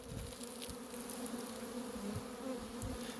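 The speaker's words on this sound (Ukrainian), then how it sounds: "Ось ще в одному облітується бджола доволі інтенсивно." Steady buzzing hum of many honeybees flying close around a new polyurethane foam hive, a continuous drone with individual bees passing nearer now and then.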